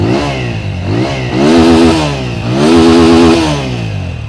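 A 2021 TVS Apache RTR 200 4V motorcycle with a bassy side-hung single-barrel exhaust revs up twice from idle, each blip rising and falling in deep tone, close and loud with no talk.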